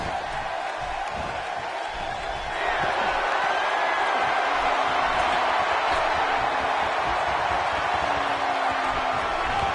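A wrestling arena crowd in WWE 2K17 roars in a steady, dense wash of cheering that swells slightly partway through and holds, with faint whoops rising above it.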